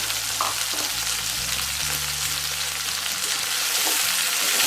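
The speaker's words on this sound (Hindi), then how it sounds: "इसको थोड़ा फ्राई कर लेंगे हम मिर्ची को" Chillies frying in a pan for Rajasthani tomato-chilli sabzi, a loud continuous hiss of hot oil that stays even throughout, with a faint low hum underneath and no talking.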